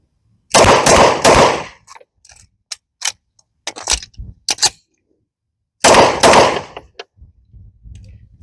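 HGM724 Echelon PDW-style airsoft gun firing: two loud, dense bursts of rapid mechanical shots, about a second each, with scattered single clicks and short cycling sounds between them, close and clear, no talking.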